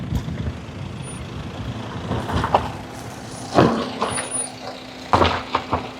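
A small car, with an Eeco van and a Harrier also mentioned, pulls out along a rough track during a rooftop-tent car camping trip. A continuous low vehicle rumble runs throughout, with a few louder bumps and knocks near the end.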